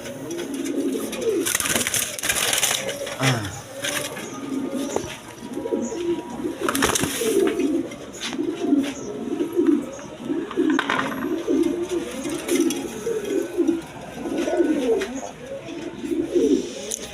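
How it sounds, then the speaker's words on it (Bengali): Rajgolla pigeons coo steadily and repeatedly throughout, a dense chorus of soft, throaty calls overlapping close by, with occasional faint chirps and rustling in the background. "দেখেন কবুতরগুলো এটা রাজগোল্লা কবুতর"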